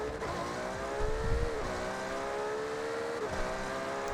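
Car engine revving in Forza Horizon, a smooth rising and falling engine note with a couple of gear-change dips, steady and moderately loud with no talk.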